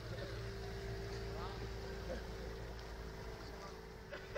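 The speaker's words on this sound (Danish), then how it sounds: "Der kommer en båd." A boat approaching on the water, its low steady motor hum held under wind and faint background noise, quiet and fairly distant throughout.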